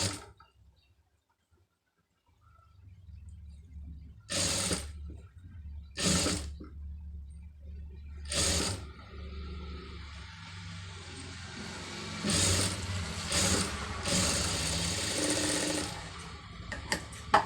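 A tailor's sewing machine stitches a round-neck blouse with a saree-border neck design, giving a steady low hum broken by several short bursts of faster stitching.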